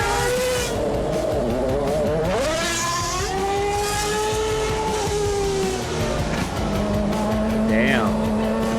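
Formula One race cars driving through the streets of Milton Keynes, engines whining and shifting pitch as they pass close by, loud and continuous over crowd noise and voices talking.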